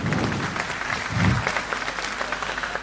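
Loud audience applause at a Hindi-language speech on yoga, a full steady rattle of clapping from a crowd that swells briefly near the middle, with no voices over it.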